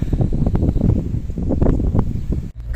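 Steady wind buffeting the microphone, a loud low rumble with gusty fluctuations, cutting off abruptly near the end.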